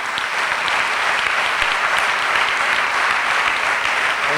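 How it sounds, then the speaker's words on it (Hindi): Dense, steady audience applause for a pastor at a church gathering, filling the whole stretch at an even loud level with no talk over it. "हम पादरी साहब के लिए भी तालियां बजाएंगे।"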